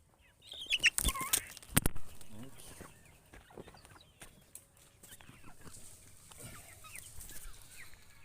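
Layer hens cluck and squawk inside a chicken coop, with a loud burst of flapping or scuffling early on, then softer scattered clucks and rustling close by.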